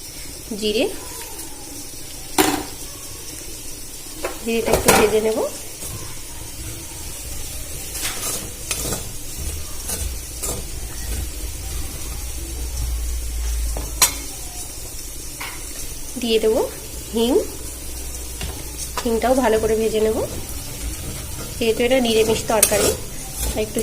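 Soybeans stir-fry in oil in a pan, a moderate sizzle broken by repeated scraping and clanking of a spatula against the metal, with someone talking intermittently over the cooking.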